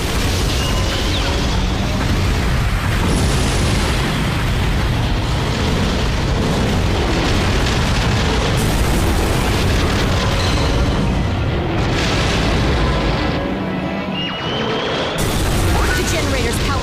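Explosions and crashing booms fill a Godzilla video game as a generator is destroyed, dense and continuous, with a voice speaking over the din.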